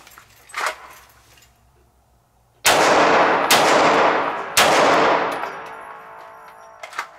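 Handgun firing during a shooting drill: three loud, sharp shots spaced about a second apart, each ringing out with a short echo, after a few fainter clicks and handling noises.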